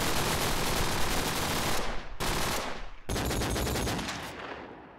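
Rapid, dense gunfire bursts from a Counter-Strike match played at a LAN tournament, loud and continuous automatic fire with brief gaps and a pistol-like crack, no talk over it.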